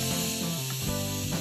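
Finely chopped onions, two medium ones, frying in a pan for pav bhaji, giving a steady close hiss that runs through the whole stretch under faint background tones.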